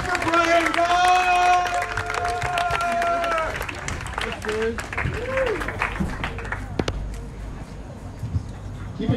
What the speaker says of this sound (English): Everybody start clapping loud.